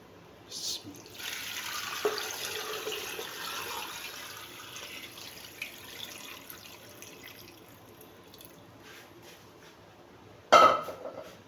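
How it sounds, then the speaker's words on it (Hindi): Water streams steadily into a cooking pot for several seconds, 8 to 10 glasses poured for mutton paya curry, a soft rushing pour, ending with a brief clatter near the end. "अब इसके अंदर हम शामिल करेंगे 8 से 10 गिलास पानी के"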